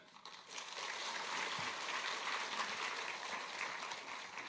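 Faint, sustained applause from a church congregation at a multi-generation festival worship service fills the space as a continuous hiss of many hands clapping.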